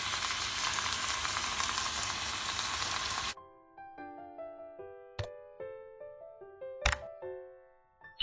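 Broccoli stir-fries loudly with seasoning for restaurant-style Indonesian cah brokoli, a dense sizzle lasting about three seconds before it cuts abruptly to a soft plucked melody with a few sharp clicks.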